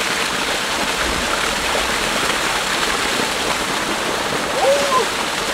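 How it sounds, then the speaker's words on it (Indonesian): Continuous broadband rush of a natural waterfall at Sumber Glodok, Ngreco, Kediri, steady and loud throughout, with a brief faint voice near the end. "Iya, air terjun alami."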